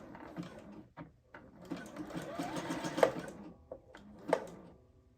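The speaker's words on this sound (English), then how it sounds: "I'm going to reverse a couple stitches and then I'm going to go back and sew across the end." A domestic sewing machine stitches through a T-shirt tote bag in several short bursts, reversing a few stitches and sewing across the end, with brief pauses between runs and clicks of the mechanism.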